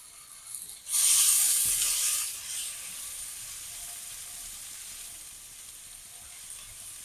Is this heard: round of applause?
no